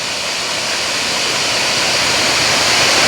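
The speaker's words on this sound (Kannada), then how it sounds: "ಜಲಪಾತ ಇದೆ ಇಲ್ಲಿ." Dudhsagar waterfall thunders from the jungle trail near its top, a dense, even roar of falling water filling the air without a break, loud and constant throughout.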